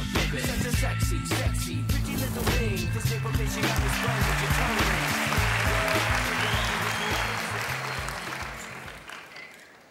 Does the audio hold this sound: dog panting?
no